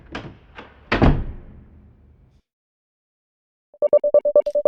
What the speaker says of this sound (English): I storm into the apartment and slam the door behind me